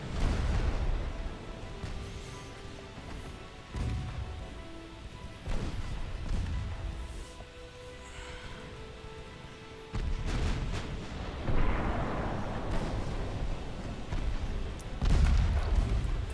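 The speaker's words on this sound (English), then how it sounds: "2-inch guns peppering him" Small 2-inch naval guns firing in Ultimate Admiral Dreadnoughts, a series of heavy booming shots spaced a few seconds apart, each with a rumbling tail, over continuous battle noise.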